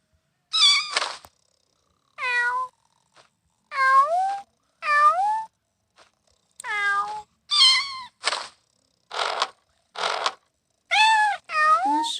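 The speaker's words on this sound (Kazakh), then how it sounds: "Мына менің мысығым" A cat in the Toca Boca video game meows about a dozen times in short, rising-and-falling calls, clear and close, alone with brief silences between them.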